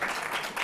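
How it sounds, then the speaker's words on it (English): Audience applause during a talk on America in the second nuclear age, a short burst of many hands clapping at moderate volume, rising and falling slightly. "Don't want to step on my applause"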